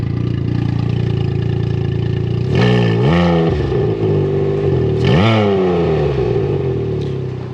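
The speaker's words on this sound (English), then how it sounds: "It'll let you rev it a little bit, but then the system automatically knows that the bike is not on the floor." A turbocharged Can-Am Ryker Rally three-wheeler engine idles loudly up close, then revs in a few short rising and falling bursts, limited because the bike is stationary off the ground, settling back to a steady idle.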